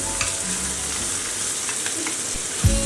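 Roasted peanuts drop into a pan of vegetables frying in oil for vermicelli upma, a loud continuous sizzle up close, with a brief scraping stir and thump near the end.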